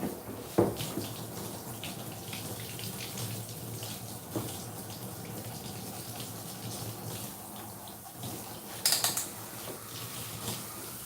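Tap water runs steadily into a tub while a dog is being bathed during grooming, a soft continuous flow with a few clanks and knocks, no speech.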